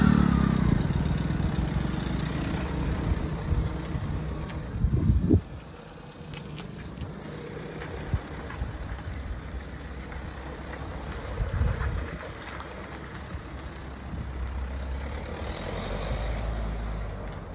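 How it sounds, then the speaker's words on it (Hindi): A vehicle pulls off with a loud engine rumble and a brief burst of revving, then recedes, leaving quieter outdoor background with faint distant engine noise. "तो दोस्तों हमारी गाड़ी चली गई है शूटिंग करने के लिए"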